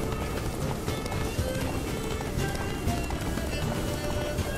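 A horse galloping in the video game The Witcher 3: Wild Hunt, heard as continuous rapid hoofbeats within a dense, loud mix of game sound that runs steadily throughout.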